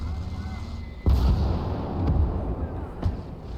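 A tank gun fires at a Soviet T-50 light tank in the WWII game Gates of Hell: Ostfront on the Nevel map, one heavy, booming report with a rumbling tail, followed by fainter distant blasts amid continuous battlefield noise.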